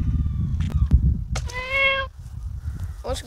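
A cat meows once, a clear drawn-out cry lasting about half a second, close by over low outdoor rumble and handling noise, followed by a shorter higher call at the end.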